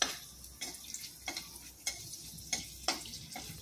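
Cashews frying in hot oil in a pan, unsalted, with a soft steady sizzle broken by several sharp clinks and stirring scrapes at roughly half-second intervals.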